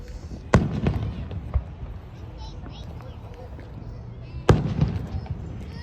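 Fireworks burst at a public display, two sharp booming explosions standing out over a crowd's constant murmur, with a few smaller pops between them and voices in the background.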